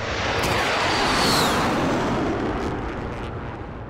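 A close air strike explosion in a first-person shooter video game lands as a loud, sustained roaring blast with rumbling debris that slowly fades over a few seconds.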